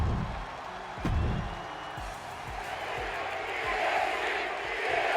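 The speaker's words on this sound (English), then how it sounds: "So the crowd are firmly behind the EST here tonight." A WWE 2K24 wrestling arena crowd cheers and roars in a steady wash of noise, with a few thuds from the ring cutting through it.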